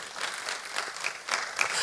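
A church congregation at a worship service applauds, a continuous wash of many hands clapping at moderate loudness, slightly distant and steady for under two seconds.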